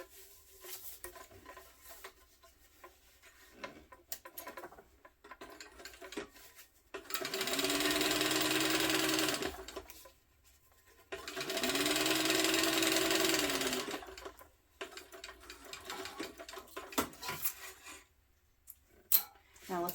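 Sewing machine top stitching an Oxbow tote bag in two bursts of steady, fast motor whir, each lasting a few seconds with quiet pauses and faint handling noises between and around them.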